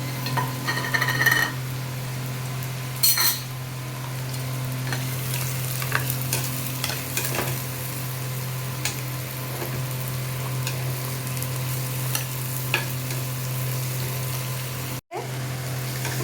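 Chopped onion and garlic fry with paneer in a hot pan, giving a steady sizzle throughout with repeated stirring scrapes and occasional utensil clicks.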